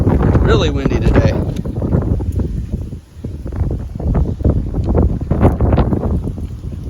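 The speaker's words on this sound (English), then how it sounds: "Really windy today." Strong outdoor wind buffets the microphone in loud, gusting roars, with a brief lull midway before the gusts return, while a person speaks through parts of it.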